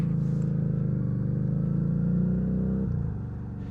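A Lexmoto Vendetta 250cc Euro 4 motorcycle engine drones steadily at cruising speed, close and constant, then eases off slightly near the end.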